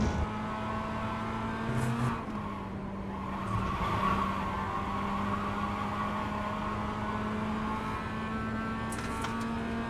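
A Mazda MX5's engine drones steadily at a low pitch from inside the car after a downshift, with faint tyre and road noise and no talking.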